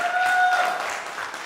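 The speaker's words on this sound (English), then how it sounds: "Give them a round of applause for that too." An audience at a youth jazz combo concert night claps in a short burst of applause that fades quickly, with a faint whistle tone over the crowd.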